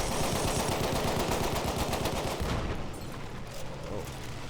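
Rapid machine gun fire from an aerial combat video game, a dense continuous rattle that stays loud for a couple of seconds and then drops back slightly, with faint voices beneath.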